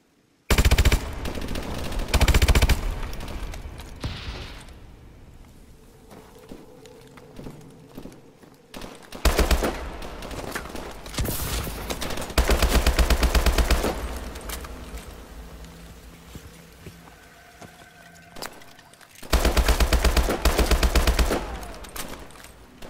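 Automatic gunfire in the Call of Duty: Advanced Warfare video game, with loud rapid bursts that start and stop several times and quieter stretches of battle noise between them.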